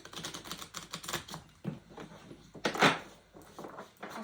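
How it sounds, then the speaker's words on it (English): A stiff tarot card deck is shuffled by hand, giving a series of close, crisp riffling and tapping bursts with short pauses, one louder flurry near the end. "This deck is very hard to shuffle."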